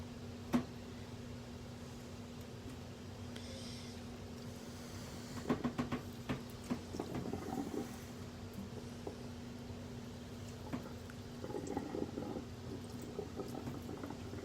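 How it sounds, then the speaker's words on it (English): Eco-dyed fabric is rinsed in room-temperature water, giving soft continuous sloshing and splashing with scattered light knocks and drips over a steady low hum. "The water that I'm rinsing it in is more like room temperature"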